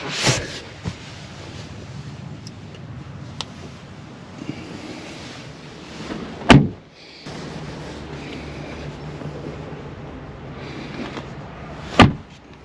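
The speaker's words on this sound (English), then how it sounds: "Nice and solid sound closing the doors." Doors of a Kia Sportage HEV AWD SXP SUV shut with two solid, heavy thuds several seconds apart, close and loud over a low steady outdoor rumble.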